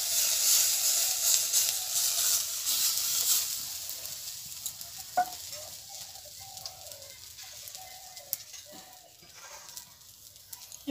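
Oil and water hit a hot pan for chitoi pitha, giving a strong bright sizzle that fades over several seconds into quieter crackles, with birds chirping nearby and a few soft knocks.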